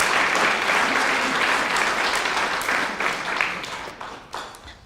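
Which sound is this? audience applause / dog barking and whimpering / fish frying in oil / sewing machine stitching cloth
audience applause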